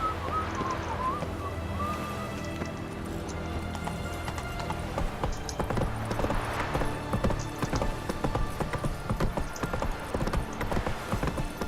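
Roach, the horse in The Witcher 3, trotting with steady, rhythmic clip-clopping hooves under an ambient game soundscape, with a brief whinny near the start.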